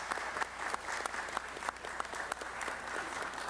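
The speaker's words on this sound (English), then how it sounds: "Let's give Governor Kim a round of applause." Attendees at a city council meeting clap to honor a visiting Korean governor. Individual hand claps stand out within a fairly quiet, distant round of applause that keeps a steady pace.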